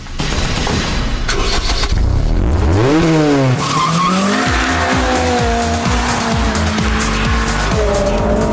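A Mugen Civic RR race car engine roars loudly and continuously, revving up through rising gear changes with tire squeal as it accelerates hard down the track.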